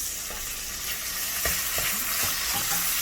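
Tomatoes hit hot oil in a frying pan for Chettinad prawn thokku, a steady loud sizzle throughout with a few soft knocks and stirring taps from a spoon, close and without speech.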